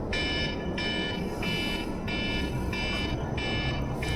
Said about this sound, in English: that was my coffee alarm I set